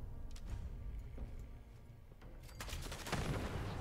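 Gunfire in the video game Fallout 76 rattles in a quick series of sharp shots over a dense, noisy game soundscape, growing louder and busier toward the end, with no voice.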